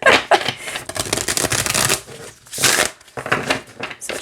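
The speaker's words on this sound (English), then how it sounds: "So it shuffles just fine." A Hay House card deck shuffled by hand, with a run of crisp riffling bursts broken by short pauses, close and fairly loud, and no talking.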